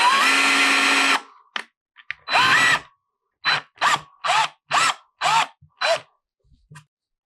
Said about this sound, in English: I'm just gonna drill through a little bit